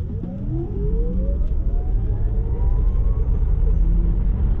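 A Porsche Taycan RWD electric car launches hard from standstill under launch control, its rising electric-motor whine sweeping upward in pitch over a deep road rumble, loud and close, with no voices.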